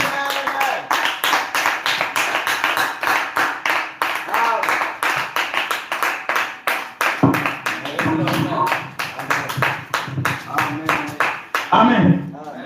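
A church congregation claps and cheers in praise, with dense, rapid, loud handclaps running throughout and voices shouting over them, crowded and close.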